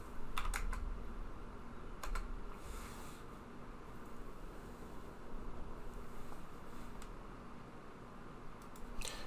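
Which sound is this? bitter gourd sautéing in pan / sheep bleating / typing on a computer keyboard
typing on a computer keyboard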